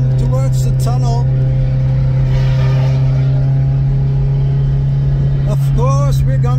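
A Ferrari sports car cruises slowly with a steady low engine drone heard from inside the cabin, continuous and fairly loud, while people talk over it.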